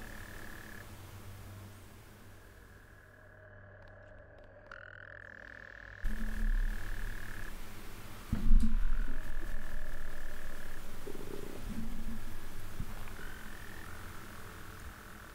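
Toads croak in long droning trills that start, stop and overlap, with several calls at different pitches, some nearby and some farther off, against a soft outdoor background.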